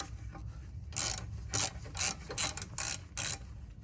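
Ratchet clicks in short bursts as caliper bolts are loosened on the rear brakes of a Toyota Sienna, six or seven quick close strokes with brief pauses between them and no talking.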